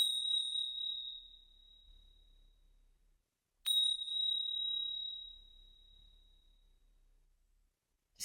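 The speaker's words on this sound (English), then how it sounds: "first podcast episode does need a little bit of chiming" Two clear meditation chimes ring out in a quiet space, each a bright metallic strike with a long shimmering decay, the second struck about three and a half seconds after the first, with nothing else audible between them.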